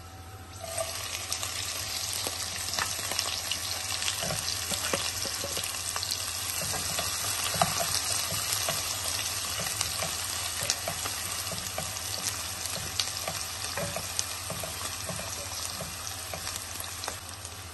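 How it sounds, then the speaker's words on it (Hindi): Chopped onions fry in oil in a pan for palak paneer, a steady broadband sizzle running throughout with occasional stirring scrapes and clicks, close and continuous with no talking. "प्याज को हम गोल्डन ब्राउन होने तक पकाएंगे।"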